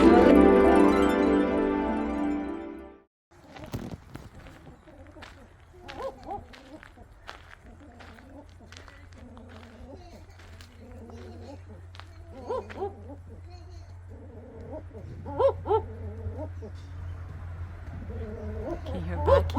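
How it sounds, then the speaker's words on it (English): A barking owl in a wildlife sanctuary in Victoria, Australia, calls in a series of short, barking hoots at a moderate distance over a low steady hum, after a brief loud noise at the start. "Can you hear barking? That's the barking owl."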